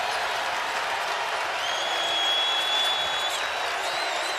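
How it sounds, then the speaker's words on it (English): Basketball arena crowd during a Virginia vs. Louisville ACC men's college game, a dense, steady roar of many voices and noise filling the space, with sneaker squeaks cutting through. "Crowd's getting restless, but trying to transfer that into energy."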